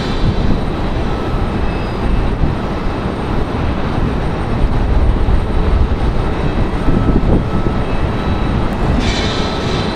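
A Spirit Airlines jet rumbles at Raleigh-Durham International, a continuous low, gritty engine roar with slight swells, ending in a brief high-pitched hiss near the end.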